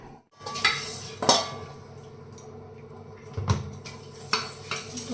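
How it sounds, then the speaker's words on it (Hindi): Steel dishes, pots and utensils clatter close by while being washed at home, with sharp irregular clanks and knocks spread across the clip. "और अब मैंने सोचा चलो पानी वानी पी के अब मैं बर्तन साफ कर लेती हूँ।"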